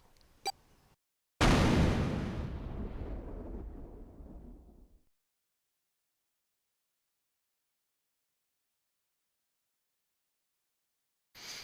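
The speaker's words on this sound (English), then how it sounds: "The explosion rocked the room." A deep, booming explosion from the 999 video game bursts out after a brief click and rumbles away over several seconds before near silence, with a faint sound returning at the end.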